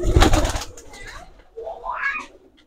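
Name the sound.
Golalal high-flying pigeons cooing in a loft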